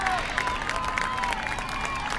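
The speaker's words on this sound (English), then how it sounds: "Crowd trying to get into it." A crowd at a girls lacrosse state championship game between Lake Sammamish and the Lake, cheering and clapping in a steady, dense roar with scattered louder whoops throughout.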